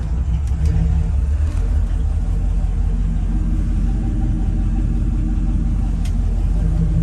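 The restored 1961 Chevrolet Apache truck's engine rumbles steadily nearby, a deep, even, continuous drone with no talk over it.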